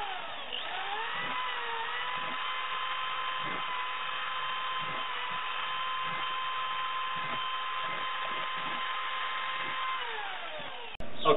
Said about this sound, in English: take a quarter inch drill bit, and what you're going to do is just go ahead and put some holes in there